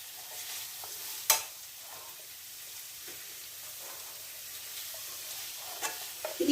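Garlic frying in a pan gives a soft, steady sizzle with light stirring scrapes, a sharp knock near the start and a few small clatters toward the end; no one speaks.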